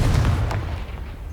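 A Confringo blasting spell going off in the video game Hogwarts Legacy: one loud, deep explosive boom that hits at once and rumbles away over about a second.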